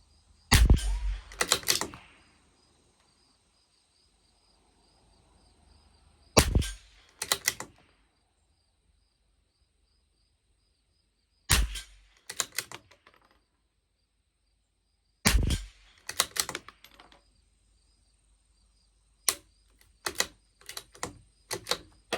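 A CZ 457 LRP rimfire rifle with an IBI barrel fires Lapua Long Range ammunition in a 50-yard test: sharp, close reports, often in quick pairs with clicks of the bolt, spaced by pauses of several seconds.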